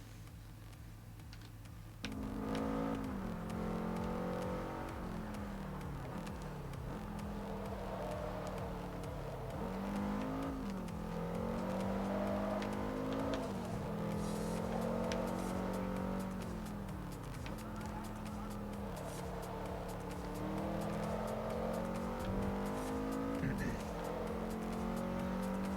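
A 2004 Subaru WRX STI engine in the video game Forza Motorsport 3 hums and revs steadily, rising and falling in pitch with gear changes, with a voice talking over it.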